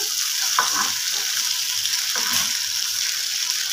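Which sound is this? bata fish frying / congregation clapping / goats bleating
bata fish frying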